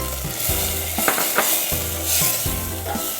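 Crushed galangal and lemongrass fry in hot oil for Jakarta chicken congee, giving a steady close sizzle broken by a few sharp spatters and stirring scrapes, with no talking.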